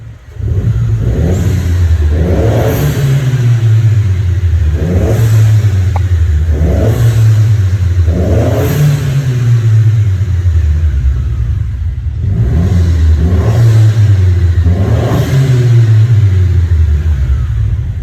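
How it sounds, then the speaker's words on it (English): A Mercedes engine with a cold air intake and blow-off valve revs hard again and again in steady surges in a small tunnel, each rise followed by a rushing release of air. It is loud and close, with no talking. "Let's see how this blow-off valve sounds."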